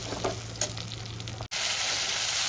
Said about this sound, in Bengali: টমেটো পেস্টটা আমি ভালো করে কষিয়ে নেব।